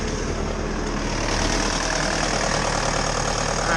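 A Bobcat loader's engine runs steadily after being switched back on during a repair, a loud continuous mechanical drone with knocking texture and no voices.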